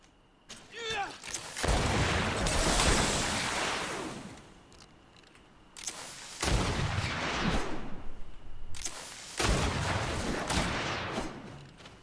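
Bomb blasts in the video game Greedfall come as three long roaring bursts of explosive rumble, each fading out before the next, loud and close, with a short voice sound at the very start.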